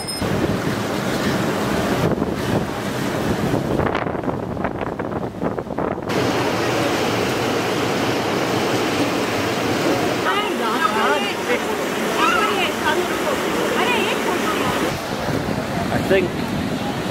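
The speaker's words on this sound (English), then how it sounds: "the river's going to change quite a lot now. It's going to be a lot smaller and hopefully quieter." The Ganges river rushes steadily near its source, a loud continuous broadband roar of flowing water that fills the whole stretch without pause.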